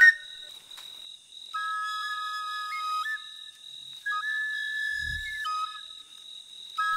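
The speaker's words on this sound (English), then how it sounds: "the hunters use their whistles to announce their successes in the bush" Senoufo hunters blowing whistles in the bush, giving shrill, sustained tones that step between pitches in long calls, with a steady high whistle throughout and a dull thump near the end.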